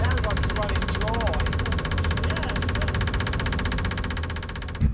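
The engine of a rally Mini runs with a rough, knocking, uneven idle while its fuel pump runs dry, loud and close, as a voice speaks over it.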